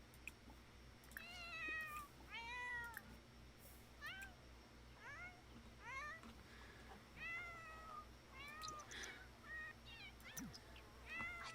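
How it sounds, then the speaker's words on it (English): A cat meows repeatedly, with many short, rising-and-falling meows in an irregular series, faint and somewhat distant indoors over a low steady room hum. "I can hear a cat. Where's the cat?"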